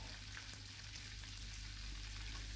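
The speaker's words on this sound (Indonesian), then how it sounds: "Digoreng sampai dengan tingkat kematangan yang kalian inginkan." Duck pieces fry in a shallow layer of oil in a pan, not fully submerged, giving a steady, even sizzle with soft crackles that holds throughout, with no voices.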